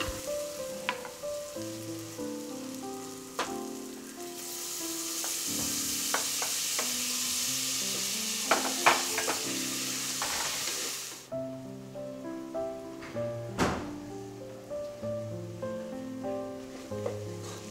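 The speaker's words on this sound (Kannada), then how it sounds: "ಎರಡೂ ಕೂಡ ಹಸಿ ವಾಸನೆ ಹೋಗೋ ತನಕ ಚೆನ್ನಾಗಿ ಫ್ರೈ ಮಾಡ್ಕೋಬೇಕು" Green chilies and chopped mint frying in a pan for biryani, a continuous sizzle with scattered clicks and taps of a utensil against the pan, while soft melodic background music plays throughout.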